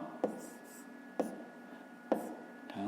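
Pen or pencil writing answers in a notebook for a 5th-grade maths exercise: soft, close scratching strokes with three distinct tapping accents spaced about a second apart, quiet and steady.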